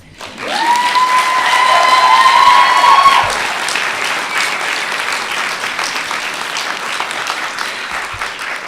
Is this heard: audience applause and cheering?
yes